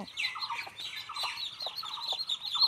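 Small ducklings chirping on a rural homestead, a quick run of high, close peeping calls overlapping one another, with no talking.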